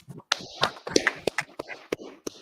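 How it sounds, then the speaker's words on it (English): A small group claps at a brotherhood class: scattered, uneven hand claps and taps in a short irregular burst, close by, with no steady applause. "Clap it up."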